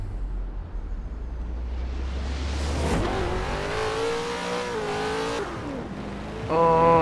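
A Chevrolet Corvette ZR-1 in Forza Horizon 4 revs hard and accelerates, its engine note climbing through gear changes, loud and close, with a low rumble before the run-up.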